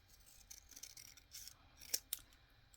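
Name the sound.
scissors cutting fabric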